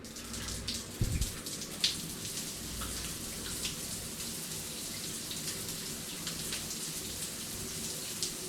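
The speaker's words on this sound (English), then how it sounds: "See if they fix this shower" Shower water running steadily in a hotel bathroom, a continuous close hiss of spray with a few small knocks and splashes, faint and unbroken throughout.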